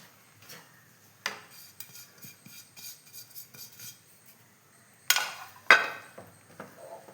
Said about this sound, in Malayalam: അപ്പോൾ ഇതാ എല്ലാം ഇളക്കി നല്ല അടിപൊളിയായിട്ട് യോജിപ്പിച്ചിട്ടുണ്ട്